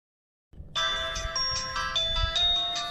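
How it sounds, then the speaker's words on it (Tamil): Itel Magic 2 4G mobile phone powering on after battery insertion, playing its startup jingle: a bright, sustained melodic tone sequence that begins abruptly after a short silence and continues steadily, clear and close with no talking. "நம்ம மொபைலில் பேட்டரி இன்செர்ட் பண்ணி மொபைல் ஆன் பண்ணுறோம்"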